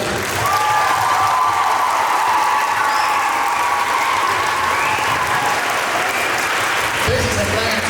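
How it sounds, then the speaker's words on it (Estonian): A large audience at a school self-created dance competition gives the organisers a big round of applause, loud and sustained clapping with some cheering, a faint tone running through and a voice returning near the end. "teeme korraldajatele ühe suure aplausi"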